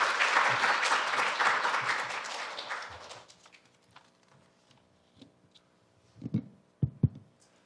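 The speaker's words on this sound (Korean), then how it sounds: "박수로 맞이해 주시기 바랍니다." A seminar audience at a university AI forum applauds an introduced speaker, dense clapping for about three seconds, then it dies away into a few isolated claps and faint knocks.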